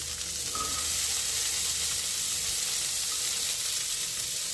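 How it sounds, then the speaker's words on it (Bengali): Green peas fry in a wok with an even, close hiss of hot oil held at a steady level for a few seconds, with no stirring strokes and no voices. "এবার কড়াইশুঁটিগুলো ভেজে নিচ্ছি।"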